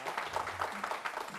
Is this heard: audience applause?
yes